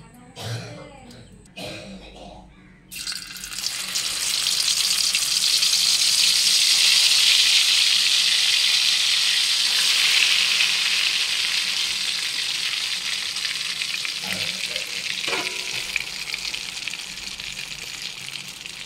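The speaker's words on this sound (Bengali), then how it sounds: "ডাউল বাটা ঘিতে ভেজে নিচ্ছি। অনবরত নাড়তে হচ্ছে।" Ground chana dal paste fries in ghee in a pan, a steady loud sizzle that swells and holds while it is stirred constantly, following a few seconds of quieter clatter and a voice at the start.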